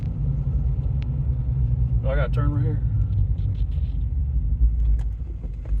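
A 1972 Plymouth Roadrunner driving on a dirt road, its engine a steady close low rumble throughout, while a person briefly speaks over it.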